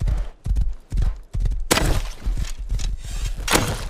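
A horse gallops in the video game Rust, its hoofbeats thudding in a steady rhythm, loud and close, building into a dense run of impacts.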